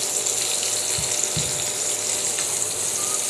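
Finely chopped medium tomato dropped into a hot frying pan for restaurant-style paneer patiala, giving a steady broadband sizzle with a couple of soft low thumps as the pieces land.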